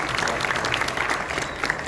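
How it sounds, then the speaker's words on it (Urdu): A theatre audience at a local stage play production in Houston applauds the writer, a short burst of dense, lively clapping with a few sharper individual claps standing out. "آخر میں جی ان کی تالیاں"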